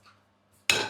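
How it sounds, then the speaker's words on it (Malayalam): A clay chatti cooking pot is set down on a kitchen stove with a single sharp contact and a brief clattering ring after faint rustling. "ചട്ടി വെച്ചു."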